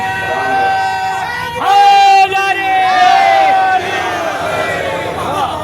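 Crowd in a religious procession in Okhla, Delhi, shouting a loud slogan in unison, sustained voices rising and holding for several seconds, fairly close and dense.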